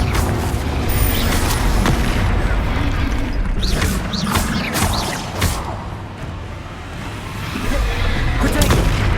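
Confringo fire spells exploding in Hogwarts Legacy combat, a dense run of booming blasts and sharp impacts over constant loud battle noise across the whole stretch.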